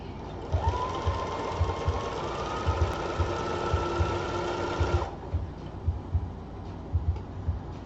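A sewing machine runs continuously, loud and close, as it stitches a skirt seam with a quarter-inch allowance using a walking foot, its rhythmic mechanical ticking and motor hum steady throughout, with a high whine fading partway through.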